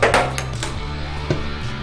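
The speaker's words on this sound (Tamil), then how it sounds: "இட்லி கொப்பரையை வச்சிடலாம்" A metal idli steamer pot is set down on a kitchen stove while cooking paruppu urundai kuzhambu, giving a few sharp metallic clanks and knocks over a steady low hum.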